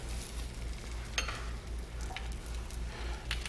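A corn tortilla fries in a pan of shallow olive oil, giving a steady soft sizzle with a few sharper crackles and pops, close up and fairly quiet, with no talking.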